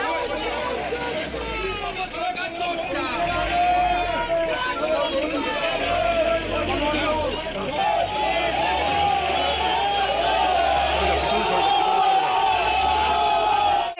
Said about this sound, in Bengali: তৃণমূল নেতাকে লক্ষ্য করে তোলা হয় চোর চোর স্লোগান।